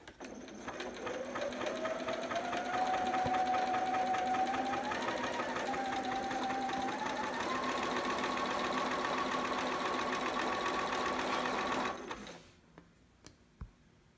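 A sewing machine runs steadily for about twelve seconds while stitching over a seam on a bell sleeve romper, its motor whine rising slightly in pitch partway through, then it stops, leaving a few faint clicks.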